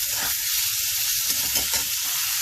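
Chopped onions and a green chili fry in a pan with a loud, steady sizzle, broken up by stirring scrapes.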